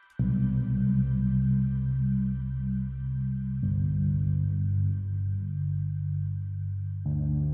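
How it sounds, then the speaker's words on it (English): A VCV Rack bass synth plays sustained low, gritty notes in a guitar ambience piece, changing pitch twice in long held steps with a dense, buzzy low end. "Down the bottom here we have a bass synth, which is a combination of a VCV bass"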